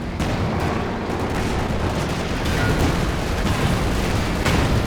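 Bazooka fire in a Company of Heroes 2 battle, rolling blasts and booms layered into a dense, continuous wash of artillery and gunfire that stays loud throughout.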